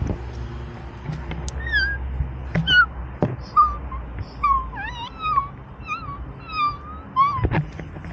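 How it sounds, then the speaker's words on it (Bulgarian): A baby kitten mews repeatedly in short, thin, rising-and-falling cries, about a dozen spaced calls close by over faint background noise and a few soft knocks. "Чувате ли как мялка?"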